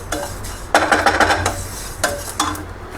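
Sesame seeds roast in a pan over a low flame while being stirred. Scraping and clattering come in bursts, with quieter pauses between strokes.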